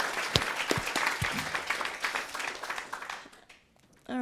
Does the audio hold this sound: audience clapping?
yes